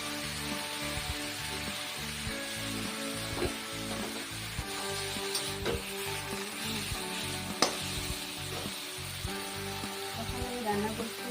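A masala of ground potato, tomato, cumin paste and chili paste frying in a pan, with a steady close sizzle broken by occasional scraping stirs and soft clinks.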